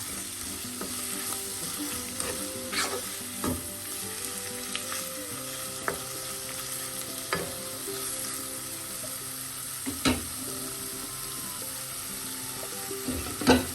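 Oyster mushroom thoran sizzles in a pan as it is stirred and mixed, a steady close frying hiss broken by periodic scraping and clicking strokes.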